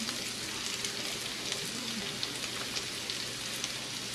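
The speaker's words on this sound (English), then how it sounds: "got our potatoes in our skillet and we've got them frying" Potatoes fry in a skillet with a soft, steady crackle and sizzle, heard close and fairly quiet with no talking.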